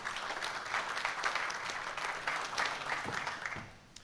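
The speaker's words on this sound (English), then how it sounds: "Please give him a round of applause." An audience at the Tauranga Business Awards 2021 gives a sustained round of applause welcoming Chamber of Commerce CEO Matt Cowley to the stage, dense and even before fading at the close.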